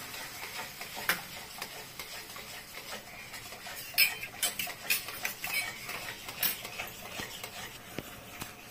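Yogurt stirred quickly into a pan of pointed gourd curry, quick metallic spoon scrapes and ticks against the pan in a busy irregular rhythm, close and moderately quiet, with no speech.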